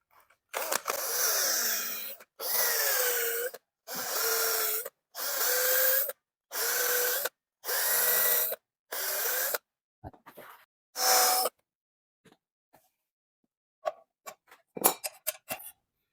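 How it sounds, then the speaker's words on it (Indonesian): A power drill fitted with sandpaper sands the iron blade of a golok machete in about eight short, evenly spaced bursts, followed by a quieter stretch of scattered clicks and scrapes. "Jadi saya amplas dengan mesin bor seperti ini"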